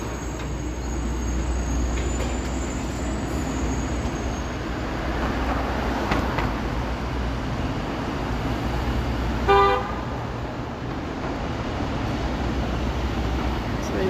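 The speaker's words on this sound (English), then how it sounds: "See, the traffic is definitely back anyway." Steady downtown Toronto street traffic at lunchtime, a continuous low rumble of passing cars with one short car horn toot near the end, heard from the sidewalk on a walk.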